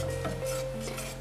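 A spoon scrapes and swirls through custard cream in a pot on the stove, giving soft rhythmic rubbing strokes over a low steady hum, with no voices.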